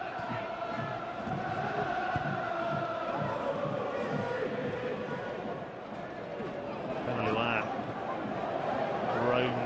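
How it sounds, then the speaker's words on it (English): A football stadium crowd at an FA Cup match between Leicester City and Tottenham Hotspur murmurs and groans in a broad, distant wash of voices that swells toward the end, with a voice talking over it. "Groans from the crowd as he has to go back to Schmeichel"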